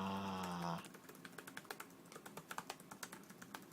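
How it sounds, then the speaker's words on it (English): Close, rapid keystrokes on an ASUS Eee PC 1015PEM laptop keyboard, an uneven run of crisp clicks following a brief tonal hum at the start, with no talking. "Very nice keyboard."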